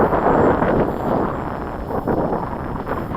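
Wind buffeting a microphone outdoors while a model aircraft flies, a loud broadband rumble that swells and eases in gusts, with no other clear sound standing out.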